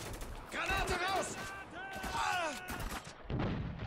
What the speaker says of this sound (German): Granate raus!